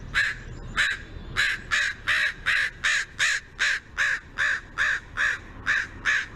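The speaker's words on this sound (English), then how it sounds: "And these particular caws are what we would call scold caws." A crow giving harsh scold caws, about fourteen loud, raspy calls in a fairly even rhythm, close by and with no other sound around them.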